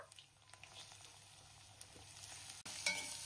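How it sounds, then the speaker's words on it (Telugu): Onion pieces fry in oil in a stainless steel kadai, a soft, steady sizzle with light stirring taps, fairly faint and close, heard without talk. "ఇప్పుడు ఈ ఉల్లిపాయ ముక్కలు అనేవి మంచి కలర్ వచ్చినంత వరకు ఫ్రై అవనివ్వాలి."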